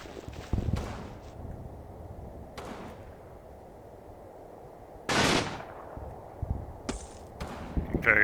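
Gunfire in the WWII strategy game Combat Mission Final Blitzkrieg, with a few sharp distant shots and short bursts scattered over a quiet background, one louder burst in the middle.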